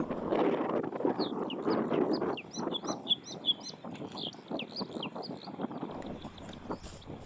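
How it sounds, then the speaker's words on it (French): Bluethroat song outdoors, a series of quick, bright chirps and trills over soft wind noise, moderately near and fairly faint. "la gorge bleue à miroir, un oiseau que j'ai vu pour la première fois"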